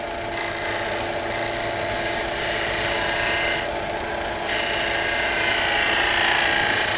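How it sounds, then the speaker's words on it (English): A detail gouge smoothing the top of a wooden wine stopper, likely spinning on a lathe, produces a steady, loud rasping scrape that runs throughout and grows slightly harsher in the last few seconds, with no voices. "let me just clean up the top here a little bit with this detail gouge."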